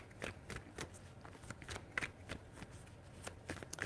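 Tarot cards shuffled by hand in a few quick riffling bursts, close and crisp against a quiet room, with no voices.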